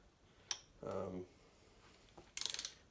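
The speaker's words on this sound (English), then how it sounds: "I'm going to torque them both to 20 and then go to 40" A torque wrench tightens engine bolts on a WD45 engine, giving a few short, quiet ratcheting clicks with a burst of rapid clicking near the end, separated by brief pauses and a murmured voice.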